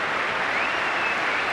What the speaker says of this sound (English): a big round of applause particularly for Tim Sherwood here